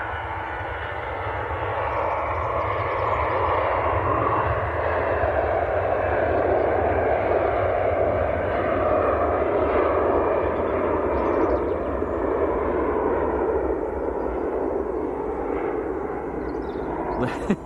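A Jet2 Airbus A321 bound for Funchal rolls for takeoff at Manchester Airport, its engines roaring in a broad, sustained rumble that swells and holds steady for many seconds at a distance.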